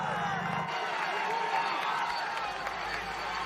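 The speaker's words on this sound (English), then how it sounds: "absolute corridor of noise from a partisan British crowd cheering on a German on the" A partisan British crowd roars along the Buttertubs climb in Yorkshire during a Tour de France stage, a dense, continuous wall of cheering and shouting for a passing cyclist, loud and close throughout.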